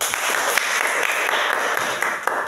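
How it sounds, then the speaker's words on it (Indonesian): Classroom of sixth-grade pupils clapping for a group after its presentation, a dense, steady patter of many hands close by, lasting a few seconds with no talk over it. "Silakan tepuk tangan buat kelompok 2."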